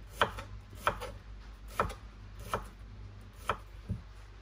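A knife chops carrots into long strips on a cutting board, six sharp, separate strikes at an uneven pace in a quiet room.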